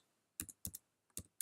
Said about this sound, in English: I'm just typing in my email address